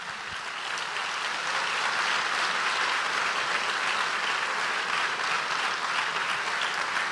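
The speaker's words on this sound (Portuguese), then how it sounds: "Vamos dar um aplauso ao Senhor." Steady applause from a large congregation at a Portuguese-language church service, rising quickly and sustained at an even level throughout.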